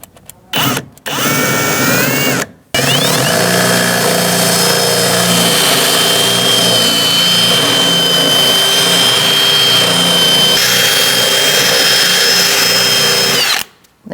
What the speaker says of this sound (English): I'm going to use my really big drill bit to do that.